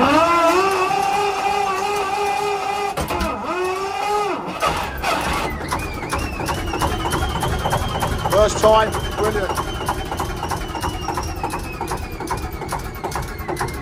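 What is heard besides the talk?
Kelvin K2 diesel engine starting and idling on narrowboat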